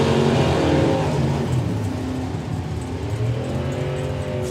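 A Camaro and a Roadster drag racing down the strip at an Easter Nationals meet, loud engine roar with rising and falling harmonic tones as the cars charge past, continuous and close with no talking heard.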